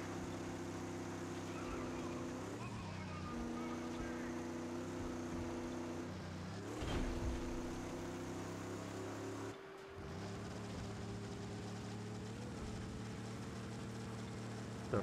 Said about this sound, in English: Our engine sounds shagged.